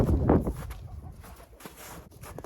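A hen clucks and grumbles nearby while her back is dusted with Ectosan anti-parasite powder. A loud rustling burst comes first, then quieter scattered clucks and shuffling.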